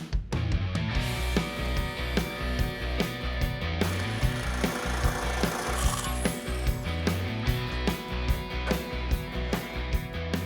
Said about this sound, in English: It's starting to push the limits on the sheet metal brake, but it's working out.